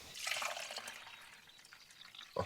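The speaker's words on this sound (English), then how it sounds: "let's see if we can pour our coffee today without spilling." Coffee poured from a container into a cup inside a vehicle on a winter road trip, a thin steady liquid stream running for about two seconds, moderately close, ending in a brief louder splash.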